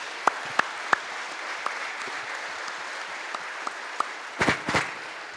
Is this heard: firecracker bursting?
no